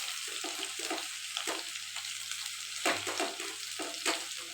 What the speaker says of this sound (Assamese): এতিয়া মই আদা নহৰুখিনি দি দিছোঁ